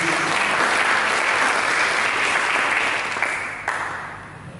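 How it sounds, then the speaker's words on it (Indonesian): Church congregation applauding during a Sunday service sermon, a dense, steady burst of clapping that fades out over a few seconds. "Berikan tepuk tangan bagi Yesus."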